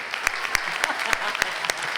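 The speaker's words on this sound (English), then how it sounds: "Can we get one more round of applause for all of our candidates for showing up today?" Clapping at a small business mayoral forum in Atlanta, a steady round of applause for the candidates with a few sharp, loud claps standing out near the microphone.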